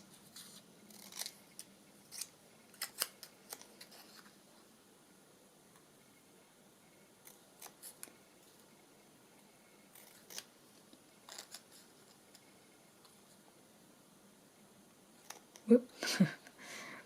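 Scissors trim paper to size for an altered autumn and winter book, giving scattered quiet snips and crisp cuts spread through the stretch, with a louder, closer flurry of cutting near the end.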